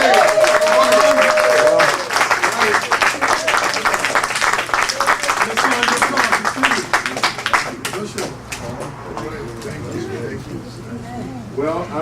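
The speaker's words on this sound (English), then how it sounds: "I want you to give him a warm round of applause" An audience at a community event on domestic violence claps to welcome a congressman, scattered close clapping mixed with voices and talk that thins out toward the end.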